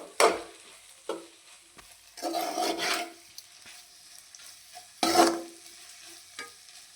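Okra stir-frying in plenty of oil in a pan, with intermittent scraping stirs and short sizzling bursts between quieter gaps, close and moderately loud.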